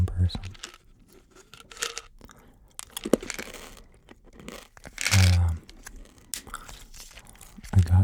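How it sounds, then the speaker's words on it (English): Gum being unwrapped and chewed close to the mic, with crinkly tearing and wet biting and crunching bursts in irregular clusters, while a voice talks quietly in places. "Some gum chewing."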